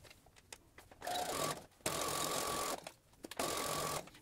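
Sewing machine stitching a multipurpose fabric bag, running in several loud whirring bursts separated by brief pauses, close up with no talking.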